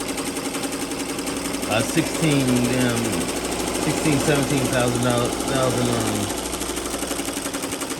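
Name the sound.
15-needle embroidery machine stitching at high speed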